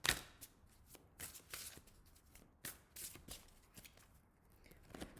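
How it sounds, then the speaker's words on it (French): Oracle cards being shuffled and drawn up close, a series of crisp riffling and slapping card sounds in irregular bursts, fairly quiet with no talking. "On va tirer une autre carte avec l'oracle de Gaïa."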